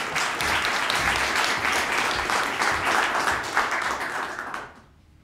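A school poetry recitation audience gives sustained, dense applause and clapping that fills the room evenly, then fades out at the end.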